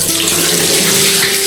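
Very cold water is poured for bathing on a foggy winter morning, making a loud, continuous rushing splash close by with no gaps and no voices.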